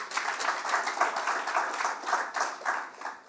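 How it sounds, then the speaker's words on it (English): Applause and clapping from an audience at an authors' forum, a moderately faint, even patter of many hands sustained for a few seconds with slight swells. "That deserves another round of applause."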